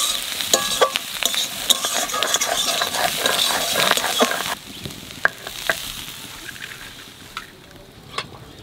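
Prawns with salt, turmeric and green chillies sizzle in a pan while a utensil stirs and scrapes repeatedly, sharp clinks over steady frying that quiets toward the end.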